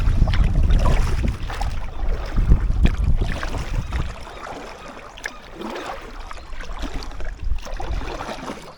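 An Itiwit PR500 packraft drifts on water with the wind behind it, giving soft lapping and gentle splashes against the hull under a low rumble of wind, fairly close and moderately quiet.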